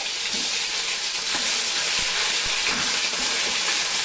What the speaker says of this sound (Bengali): এরপরে আমি মশলা বাটাটা দিয়ে দেবো তেলে।